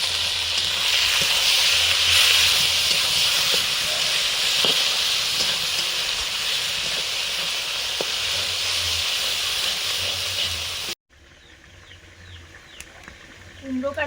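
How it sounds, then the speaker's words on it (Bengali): Red amaranth greens drop into a pan of frying onions, raising a loud, steady broadband sizzle that holds for about eleven seconds, then cuts to a quieter scene with faint clatter and brief talk. "পেঁয়াজ ভাজা হয়ে গেছে, এবারে আমি লাল শাকটা দিয়ে দিচ্ছি।"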